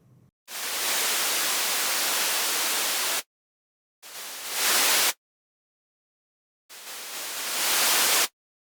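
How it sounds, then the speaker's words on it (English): Three bursts of synthesized, hiss-like flywheel brake friction noise separated by silence: a long steady one, then two shorter bursts that swell in loudness. "I've isolated the braking sound so it's easier for us to hear."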